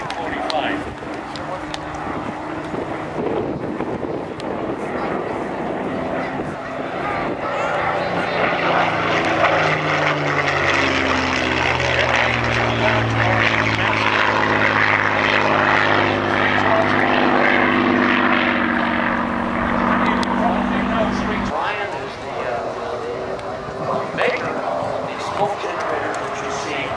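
A Supermarine Spitfire built at Castle Bromwich and delivered to the RAF in 1945 makes a loud, throaty Rolls-Royce Merlin engine roar at an airshow, swelling as it passes close and then fading, with a voice talking over it.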